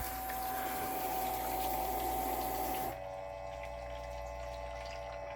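Water pours and drains steadily into a portable shampoo sink during a hair wash, a continuous close rushing flow with a faint hum that drops to a softer, thinner trickle partway through.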